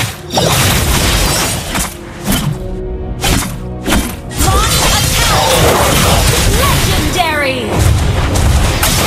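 Turret destruction in the Mobile Legends video game: loud booming crashes and shattering impacts amid continuous game effects, with brief gaps, under an announcer voice.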